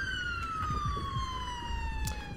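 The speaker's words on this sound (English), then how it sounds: "Oh, I gotta turn off the siren." A wailing ambulance siren in GTA 5 sweeps steadily downward in a loud, continuous tone, close up, with traffic rumble underneath.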